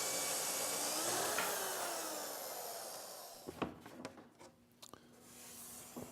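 A Festool TS 55 track saw fitted with a fine tooth blade makes a 45-degree plunge cut, a loud whirring roar for about three seconds, then quieter clicks and knocks as it winds down.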